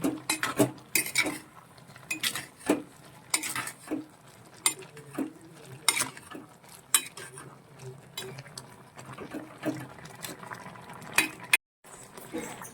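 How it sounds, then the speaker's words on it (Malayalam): A spoon stirs salt into a mango curry made with dried red chilies and shallots in a pan, giving repeated scraping clinks and knocks against the metal at an uneven pace, moderately close, over a soft background hiss. "അപ്പൊ നമുക്ക് ഇച്ചിരി ഉപ്പും കൂടി ഇട്ട് ഒന്ന് ഇളക്കാം നന്നായിട്ടൊന്ന് ഇളക്കി യോജിപ്പിക്കാം"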